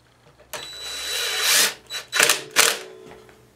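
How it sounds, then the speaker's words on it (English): An electric screwdriver, not very powerful, whirs in several short bursts while driving screws on a Weedeater push lawnmower, a longer run followed by two or three brief spurts, close and fairly loud with no talk. "It's literally a screwdriver"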